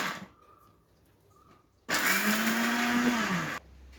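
A mixer grinder switches on abruptly and runs at full loud pitch grinding coconut and banana chips for under two seconds before cutting off, with quiet room ambience on either side.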